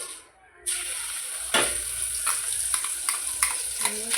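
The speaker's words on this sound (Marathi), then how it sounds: "तेल पण गरम झालंय. तर तो मसाला वाटलेला ना त्याची आता त्यामध्ये तिने टाकला आणि त्याची आता फोडणी देते ती." Ground coconut, garlic and onion masala hitting hot oil in a home kitchen for misal pav, a steady close sizzle with scattered stirring scrapes and clicks, starting abruptly after a brief hush.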